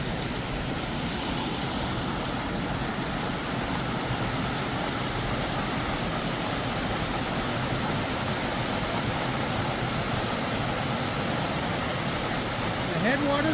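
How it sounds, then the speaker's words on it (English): A large waterfall in North Cascades National Park gives a steady, broad roar of falling water that stays even and unbroken throughout, with no talk over it. "That is a hell of a waterfall."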